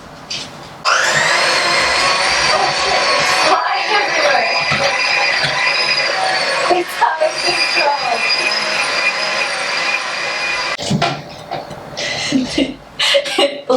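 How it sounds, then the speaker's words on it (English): An electric mixer with a whisk attachment whirs loudly and steadily, kicking in abruptly after a moment, its whine wavering in pitch with a couple of short dips and sputters near the end. "I'm using my mixer, the whisking attachment with this."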